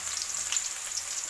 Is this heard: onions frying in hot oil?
yes